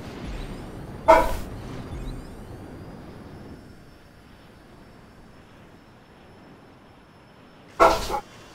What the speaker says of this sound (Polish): Jak mnie ten pies denerwuje.